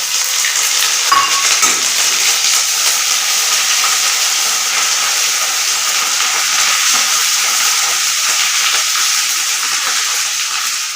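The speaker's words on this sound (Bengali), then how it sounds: "পাঁচফোড়ন দিলাম পাঁচ ঘন্টা হয়ে গেলে এর মধ্যে দিয়ে দেব খানিকটা পরিমাণে এক চামচ পরিমাণে আদা" Panch phoron spices and ginger fry in hot oil, a loud, continuous hissing sizzle that stays steady and close throughout with no talk.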